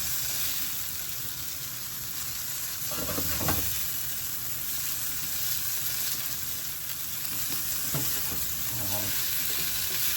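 A steady sizzle of shrimp frying in a hot pan, with a few soft stirring scrapes and clinks now and then.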